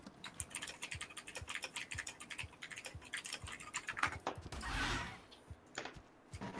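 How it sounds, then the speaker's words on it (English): Rapid, forceful computer keyboard typing during an Ark Survival Evolved gaming session, a dense run of sharp clicking keystrokes with a brief louder burst midway, close and steady throughout. "I agree, ferocious typing."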